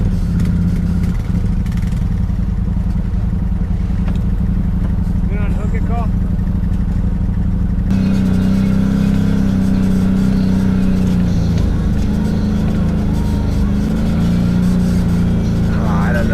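A side-by-side off-road vehicle on a wooded trail at a riding park drones steadily up close, its engine revving and surging while someone talks over the noise.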